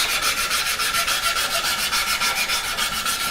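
Rapid back-and-forth rasping of a sanding screen rubbing over a custom electric guitar body, an even rhythmic scratch of about five strokes per second, close and uninterrupted.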